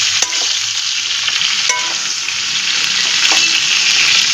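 Pumpkin and eggplant frying in a pan for shukto, a steady loud sizzle with scraping stirs and occasional clinks of the utensil, no voices.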